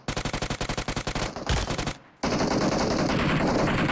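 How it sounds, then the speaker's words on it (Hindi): Bots fire guns in the BGMI battle royale game: rapid automatic bursts rattle close and loud, broken by a single sharp shot and a short lull, then a dense, continuous barrage of gunfire resumes. "यहां पर ये देखो बॉट फायर कर रहे थे"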